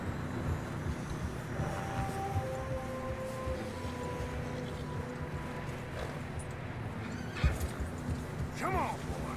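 In the video game Red Dead Redemption 2, horses whinny and snort close by while hooves clop steadily through snow, with a faint voice in the background and a sharp knock near the end.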